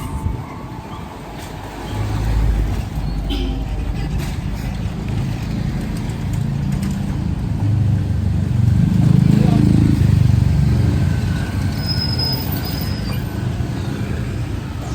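Engine hum and rumble fill the interior of a car idling and creeping through road traffic, a steady low drone that swells slightly midway, with people talking over it throughout.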